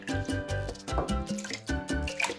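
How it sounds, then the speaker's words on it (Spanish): Milk splashes and drips into beaten eggs for a Peruvian leche asada custard, a close, quiet run of small liquid plops and trickles in an uneven rhythm, with no one speaking. "Vamos a poner acá la mitad de nuestra leche que tenemos aquí"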